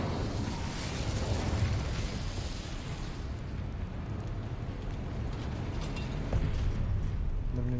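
The Incendio fire spell in Hogwarts Legacy bursts into a loud, sustained roaring whoosh like an eruption, rumbling steadily for several seconds with a slight swell near the end.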